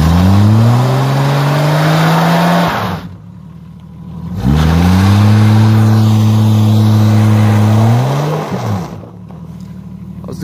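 A Jeep engine revs hard twice with the throttle floored in two-wheel drive, loud rising roars that climb and hold before dropping off, separated by a brief quieter idle.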